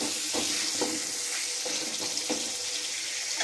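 Chopped tomato with salt sizzles steadily in a hot pan for a spiced potato dish, a close continuous hiss broken by regular soft scrapes of stirring.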